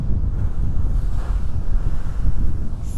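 Large ocean waves crash and surge against the rocky shore at Devil's Tears on Nusa Lembongan, Bali, a loud continuous roar with heavy wind buffeting the microphone, and no voices heard.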